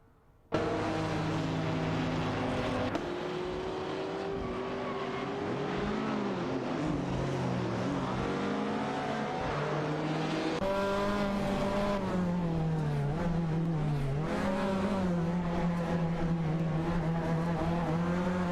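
Lancia Stratos HF and other race cars in a video game race, engines droning loudly and continuously with rising and falling revs as gears shift, several cars overlapping close by.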